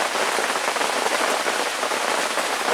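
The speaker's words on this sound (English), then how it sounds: "I'm hoping that the rain stops here eventually" Steady rain falls on a surface in a lakeside camp setting, a dense, even patter of drops continuing throughout with no voices.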